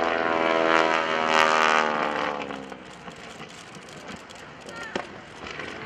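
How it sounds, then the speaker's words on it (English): A John Mohr aerobatic propeller aircraft at the 2011 Blue Angels Homecoming Airshow, its engine droning loudly with harmonic whine then sputtering and dropping off while inverted, followed by quieter, ragged crowd and ambient noise with a brief pop. "Listen to the sound of the engine when he gets it upside down."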